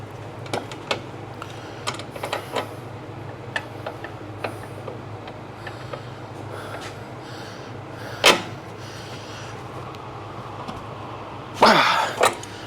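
Wrenches checking torque on Clayton lift kit bolts on a Jeep, a series of sparse metallic clicks and ticks with a couple of louder clanks near the end, close and without talk.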